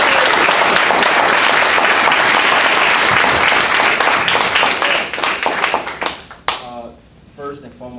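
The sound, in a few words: audience applause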